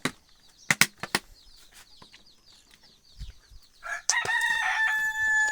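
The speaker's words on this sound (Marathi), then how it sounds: "पहा कसा बाग देतोय." A free-range country rooster crows loudly and close at the end, a long drawn-out call, after scattered clucks and wing flaps from the flock.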